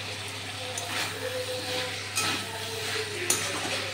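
Fried potatoes and broccoli being stirred into a pan of tomato-sauce masala for a vegetarian dum, soft sizzling with scraping and clinks of a spoon against the pan, moderately close and without talk.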